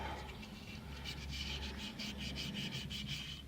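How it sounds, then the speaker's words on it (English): Rhythmic back-and-forth rasping as a Toyota 1MZ-FE engine part is scrubbed with a scour pad and petrol, steady strokes close up over a low hum, with no voices. "Just scrub."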